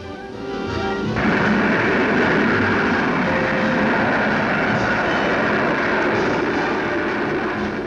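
A rocket sled streaks down a 2.5-mile test track, a loud, dense roar that builds within the first second and then holds as a sustained rushing thunder with rumbling low end.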